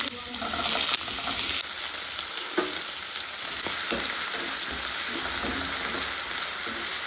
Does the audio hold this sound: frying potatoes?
yes